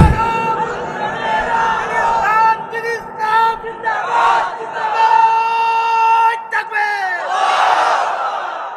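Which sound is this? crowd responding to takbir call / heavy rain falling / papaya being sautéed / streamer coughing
crowd responding to takbir call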